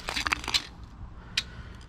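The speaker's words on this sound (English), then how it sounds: "So you just hear the glass crunching under my feet." Broken glass crunching under footsteps on a rocky riverbed littered with old bottles, several short crisp crackles clustered close together, then a lone crunch after a pause.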